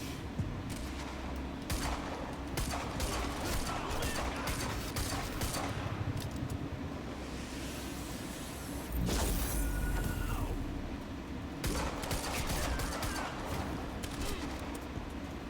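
Rapid gunfire bursts in the video game Quantum Break, dense and loud throughout with a heavier blast near the middle, amid constant combat din and a faint voice.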